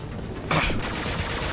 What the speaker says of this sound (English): Don't mind the gunfire.